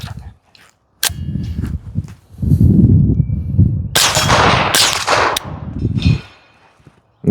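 Up close, a CMMG AR .22LR pistol fires in a few loud, sharp cracks spread irregularly through a malfunction, amid clattering, rustling handling noise and low thumps.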